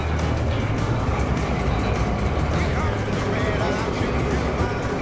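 Train in motion at a station in Sri Lanka, a steady loud rumble with low engine drone and rattling carriages throughout, with people talking over it.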